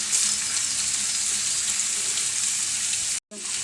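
Ginger and garlic frying in hot oil, a loud, steady close sizzle throughout that cuts out abruptly for an instant near the end before resuming.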